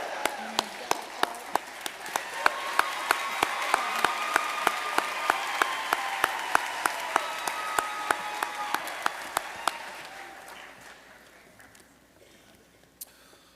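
Audience at an education awards ceremony claps in a sustained round of applause, sharp individual claps standing out over the crowd wash, gradually fading toward the end.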